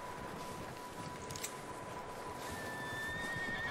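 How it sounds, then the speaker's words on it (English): A horse whinnies in a snowy barn setting in the Red Dead Redemption 2 video game. The high, wavering neigh rises late, over a steady blizzard-like hiss, with faint hoof clatter and no talk. "I hear horses"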